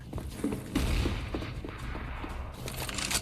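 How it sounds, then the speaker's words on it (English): Grenade blast in a tactical shooter, a loud burst of booming gunfire-like noise near the start, then continued rumbling fire and thuds through the rest. "Grenade out."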